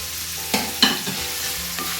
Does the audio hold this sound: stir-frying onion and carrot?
yes